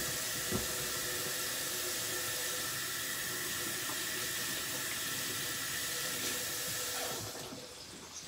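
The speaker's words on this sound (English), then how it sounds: "I'm going to wash my hands with some antibacterial soap." Water from a running tap pours steadily into a sink as hands are washed with antibacterial soap, a continuous close hiss and splash that tapers off near the end when the flow stops.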